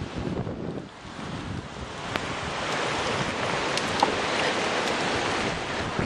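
Hurricane Ike winds roaring in a steady, dense rush, building slightly and staying loud throughout, with no voices over the noise.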